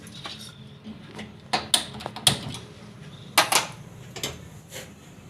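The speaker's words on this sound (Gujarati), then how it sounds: "તો હવે આપણે ગેસ ચાલુ કરશું" A gas stove being switched on, a short series of sharp mechanical clicks and ticks from the burner knob and igniter, close and fairly loud against a quiet room, with no voices.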